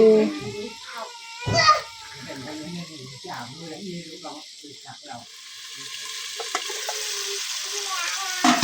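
Fish and vegetables being stir-fried in a pan at home, with bamboo shoots in the dish, giving a steady sizzle under a person talking, plus a few brief louder clatters of stirring.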